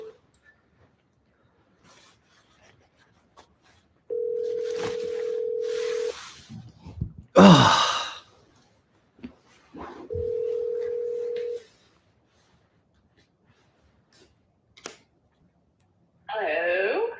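Long ringback tones of an outgoing phone call, two steady buzzing pulses a few seconds apart, broken by a short clatter, with a voice answering at the end.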